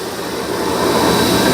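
A bead blasting cabinet for cleaning Corvair parts runs with its vacuum on, giving a steady, fairly loud broadband roar and hiss that builds slightly over the short span, with no talking.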